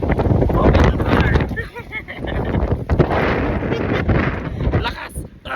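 Strong gusts roar and buffet outdoors in a continuous, loud rumble that swells and dips, with excited voices shouting close by over the blustery noise.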